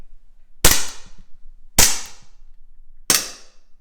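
Umarex Glock Gen 4 CO2 air pistol firing three sharp, loud, close pops spaced about a second apart, each with a brief clatter of the slide cycling.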